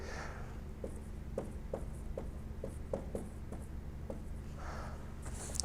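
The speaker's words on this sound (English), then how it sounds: "And I'm just going to write down what the answer is." Writing on a board during a quantum mechanics lecture: a series of soft, regular strokes and taps from the writing tool, close and steady over a low room hum.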